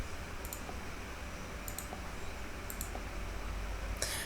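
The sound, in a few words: mouse clicks on a password app page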